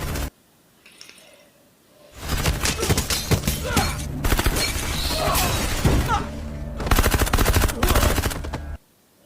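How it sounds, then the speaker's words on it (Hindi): Rapid bursts of automatic gunfire erupt in a film scene, dense rattling volleys in several loud clusters separated by brief lulls, after a quiet opening. "गोलियां चलने लग गई।"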